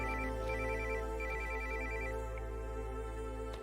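A phone ringtone plays for an incoming call, a repeating electronic melody in short bursts over a steady low hum, fairly close and clear, with no talking.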